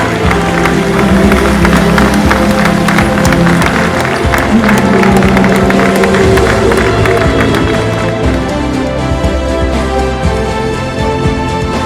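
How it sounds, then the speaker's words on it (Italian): A large outdoor crowd claps and cheers loudly and steadily for Roman historical reenactors of the Gruppo Storico Romano at an Ides of March event, the dense applause holding near and full for the whole stretch, with a brief lull toward the end. "Un grande applauso ai rievocatori di Gruppo Storico Romano"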